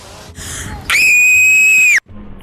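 A loud, sustained high-pitched human scream lasting about a second, measured for loudness in a school science project, preceded by brief quieter sounds and cut off abruptly.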